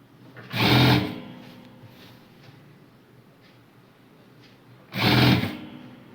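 Two short, loud bursts of a sewing machine stitching a baby frock, several seconds apart, with quiet room tone between them.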